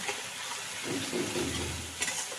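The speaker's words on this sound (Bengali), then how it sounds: "যেই পেস্টটা বানিয়েছিলাম আদা লঙ্কা আর হচ্ছে টমেটো ওই পেস্টটা দিয়ে এবার একটু তেলের মধ্যে দিয়ে কষিয়ে নিচ্ছি" A paste of ginger, green chili and tomato frying in oil in a pan. A steady, dense sizzle runs throughout with faint stirring. Close and moderately loud, with no talking.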